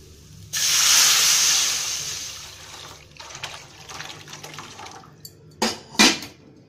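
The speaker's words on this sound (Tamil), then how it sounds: "இந்த கொல்லு தண்ணி எடுத்து ஊற்றிடுங்க" Horse gram cooking water poured into a rasam pot, a loud steady hissing gush of liquid lasting several seconds, then a softer trickle and two brief splashy bursts near the end.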